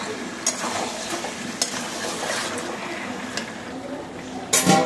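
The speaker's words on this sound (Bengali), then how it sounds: "এটা হচ্ছে আমার মাটন, চলছে এখন কষানো।" Mutton being stir-fried in a pot for chicken-mutton biryani, a steady sizzle with scraping stirs and a few sharp clanks of a spoon against the pot, including a louder clatter near the end.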